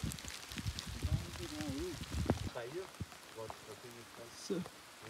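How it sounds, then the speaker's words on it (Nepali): Steady rain patters in the background at Laligurans Park on the way to Mohare Danda while voices talk over it, the rain hiss continuing quietly beneath the conversation. "यहाँ चाहिँ पानी परिसक्यो"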